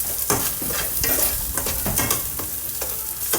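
Garlic and onion sautéing in a pan for pork adobo, a steady close sizzle broken by repeated scraping stirs of a utensil against the pan, with no talking.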